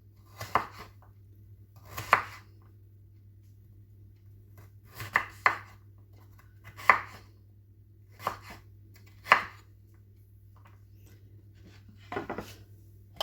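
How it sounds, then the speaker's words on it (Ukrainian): Knife chopping a firm carrot into small pieces on a board for sweet potato soup, sharp separate cuts in loose bursts with short pauses, close and clear over a steady low hum. "От я також буду різати трошки дрібнішими частинками."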